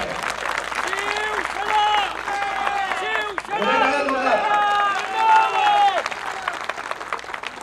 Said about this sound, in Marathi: जरा टाळ्या वाजवायच्या.